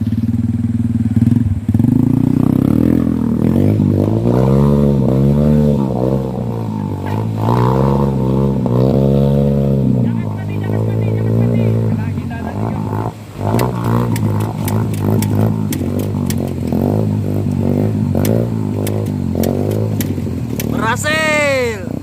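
Motorcycle (CB) on an extreme off-road trail, engine held at full throttle and wavering in pitch as it pushes through rushing water, loud and close with splashing and clatter throughout.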